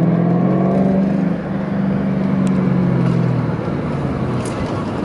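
A 2005 Ford Mustang GT with a five-speed manual accelerates, its engine drone rising and settling as it pulls hard, heard loud and close from inside the car with no speech.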